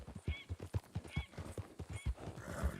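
Horse hooves clip-clopping in Red Dead Redemption 2, a steady walking rhythm of close, soft thuds with faint tack jingles and a brief snort, all at a quiet level.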